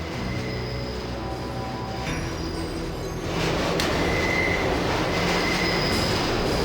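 Subway train rumble and rail noise in the Deus Ex game, a steady loud low roar that swells partway through, with faint wheel squeal, no talk over it.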